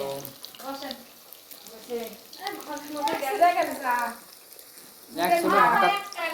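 Food sizzles and crackles in hot oil while an iftar dish is being cooked, a soft, steady frying hiss running beneath people talking.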